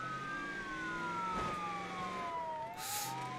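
A wailing ambulance siren from a vehicle in the driving game BeamNG Drive sweeps steadily up and down, loud and close, over a low engine rumble, with a brief hissing burst near the end.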